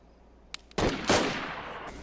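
Cannon fire in Battlefield 1 on the Livonia map, with a faint click followed by two heavy booming blasts close together, loud and close, their rumble trailing off afterward.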